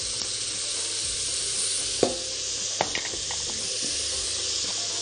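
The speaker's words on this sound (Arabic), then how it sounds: "بنبدا ان احنا نحط عندنا مجموعه الخضروات بتاعتنا،" Carrots and peas sautéing with onions in a pan, a bright steady sizzle with a few sharp utensil clicks and scrapes as they are stirred.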